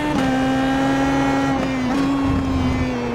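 Pro Mazda race car accelerating out of a corner at Mid-Ohio Sports Car Course: a loud, continuous engine drone holds a steady pitch, with a brief dip and recovery partway through and no talking.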